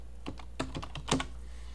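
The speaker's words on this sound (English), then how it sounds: "I need to type in." A few quick keystrokes on a computer keyboard running Linux Mint 15, soft clustered clicks in a brief burst against a quiet low hum.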